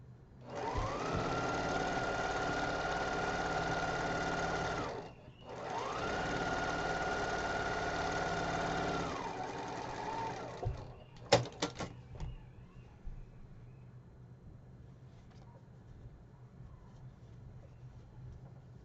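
A sewing machine runs the final seam of a quilt block in two long, steady stitching runs with a brief pause between, close up, followed by a few light clicks and handling noises as the machine stops.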